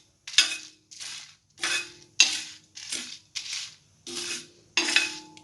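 Chillies are roasted in a pan, giving about eight separate bursts of scraping and clinking as a spoon stirs them, each burst rising sharply and then fading, with short pauses between, close and fairly loud.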